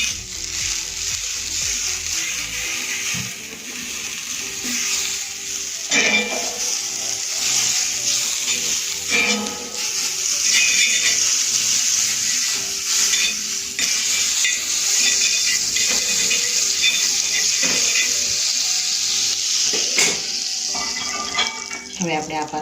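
Potato paratha roasting on an oiled or buttered tawa, a steady close sizzle and frying hiss throughout with occasional light scraping and clinks of utensils.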